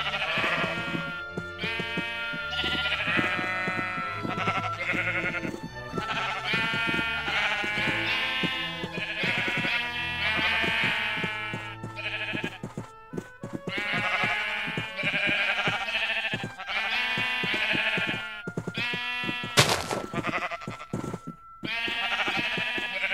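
Sheep bleating in the video game Minecraft, many repeated bleats from several animals overlapping one after another throughout, loud and close with no talking.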